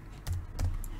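Typing on a computer keyboard while entering Stata commands: a few sharp key clicks, close and fairly quiet.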